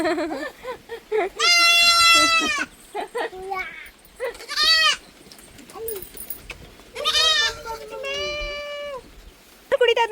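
Several loud goat bleats, some long and wavering, come in separate bursts with short pauses between them.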